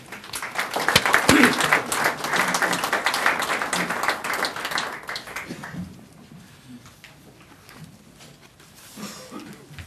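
A church audience breaks into loud, full applause to welcome lawyer Park Won-soon. The clapping holds strongly for about six seconds, then thins and fades to scattered claps and quiet room noise.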